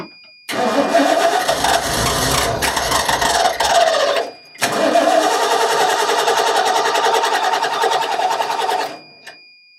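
A 1989 Ford F150 pickup cranks hard on its starter in two long, loud whirring bursts separated by a brief pause, the engine failing to catch each time.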